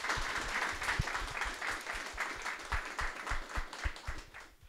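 Audience applause for two speakers at the end of a quantum computing meetup talk in Warsaw, a steady mix of moderately loud claps from a room of people that tapers off toward the end.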